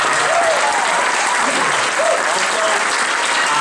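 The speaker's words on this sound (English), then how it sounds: "a round of applause for Michelle" Concert audience applauding at Infinity Hall in Hartford for a volunteer introduced at an ALS benefit, dense sustained clapping with scattered whoops, loud and continuous throughout.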